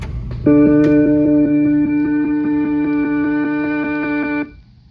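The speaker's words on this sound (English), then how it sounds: "And let's find out how a correctly balanced system sounds by playing a monaural organ tone." A steady sustained monaural organ test tone from an early Seeburg jukebox stereo test record, played on a Wurlitzer, holds for about four seconds at an even volume, then cuts off abruptly.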